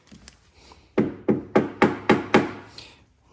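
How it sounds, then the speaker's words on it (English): A metal tool taps a custom CNC-built knife assembly to seat its parts: about six sharp, evenly spaced knocks with a quiet pause before them, close and distinct. "And you give it a little tap,"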